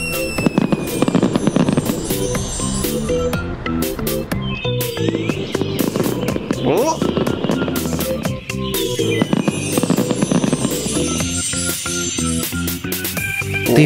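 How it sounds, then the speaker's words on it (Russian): Cartoon fireworks crackle and burst in a dense rapid barrage, with many sharp pops and bangs over a musical bed, loud and continuous throughout. "Ты видел этот фейерверк, Карл?"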